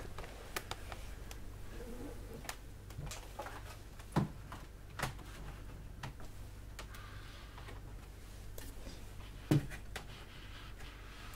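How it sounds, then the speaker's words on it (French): Fingers typing on a computer keyboard, soft irregular key clicks ticking along steadily at close range, with a few louder, sharper key strikes standing out, and no talk. "Je vous proposerai une petite vidéo avec uniquement clavier."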